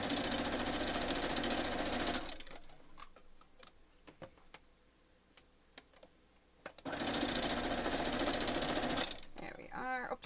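A sewing machine stitches quilt block pieces for a pixelated Halloween quilt, running in two loud bursts of rapid stitching separated by a quieter pause with clicks and handling; a voice is briefly heard at the end.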